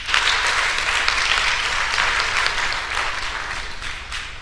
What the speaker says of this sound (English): Please clap for me as I say thank you.